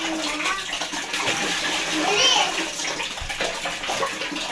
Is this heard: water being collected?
yes